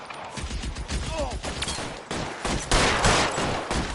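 Gunfire in the L.A. Noire video game, a loud mix of shots and bursts in a dense firefight, with a voice shouting over the clatter.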